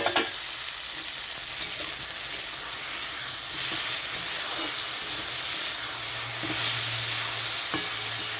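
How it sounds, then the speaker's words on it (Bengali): Chopped vegetables frying in a pan, a continuous bright hissing sizzle with occasional soft stirring scrapes and clicks, close and steady throughout. "সবজিগুলো ভাজা হয়ে গেছে।"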